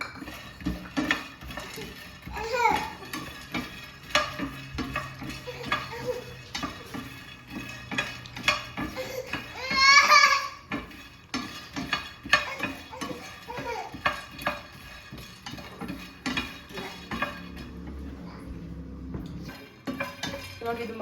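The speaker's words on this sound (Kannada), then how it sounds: "ಮಖಾನನ ಫಸ್ಟ್ ಹುರ್ಕೊಡ್ತಾ ಇದ್ದೀನಿ" Makhana (fox nuts) being dry-roasted in a pan, stirred steadily with a utensil, giving continuous scraping and clinking against the metal with light rattling of the nuts; faint background sounds persist throughout.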